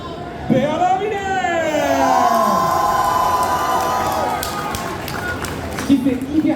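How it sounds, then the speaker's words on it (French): A festival crowd at a cosplay contest whoops and cheers loudly, with rising shouts and voices swelling together and chatter underneath. "on va vous faire de la place pour que vous puissiez danser, chanter, taper dans les mains et applaudir un certain Bernard Muller."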